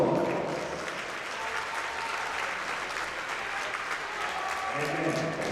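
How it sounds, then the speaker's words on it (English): Audience applause for the game officials at a boys basketball regional tournament game, steady clapping filling a gym for several seconds, with a voice under it. "Let's give them a nice round of applause."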